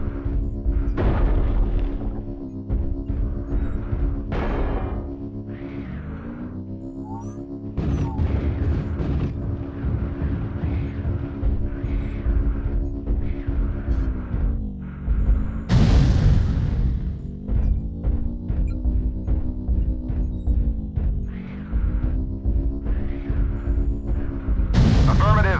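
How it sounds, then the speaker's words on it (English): Artillery strike explosions in a video game land as a run of heavy booming blasts and rumbling impacts over a droning engine-like hum, with game voices talking in between. "Artillery strike online."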